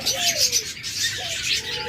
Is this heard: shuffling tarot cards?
no